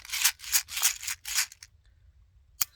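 The feeder tube on a Daisy Winchester #12 pump action BB gun is pulled up. Four quick, close metallic scraping strokes are followed by a pause and one sharp click.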